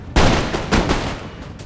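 Line infantry fire a musket volley in Empire Total War, a loud burst of overlapping gunshots with a crackling ragged spread of several reports over about a second and a half, no voices.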